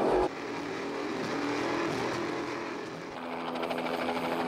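Lucas Oil's Powerboat P1 Evolution racing boat at the end of the Istanbul, Turkey sprint race, its engine a loud, steady roar that swells slightly and carries on without a break.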